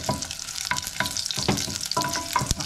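Onions sauté in a hot pan in a steady broadband sizzle, with several sharp stirring clicks and scrapes breaking through, close and continuous for the whole stretch.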